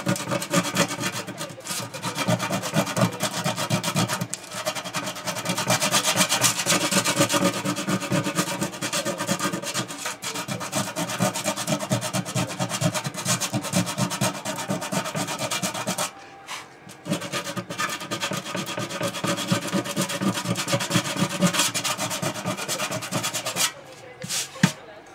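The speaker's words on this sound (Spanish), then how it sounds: "vamos a comenzar lijando los dos hoyos" Continuous abrasive sanding on an aluminium pot around two holes, a harsh scratchy rasp that runs steadily close by, with one brief pause midway.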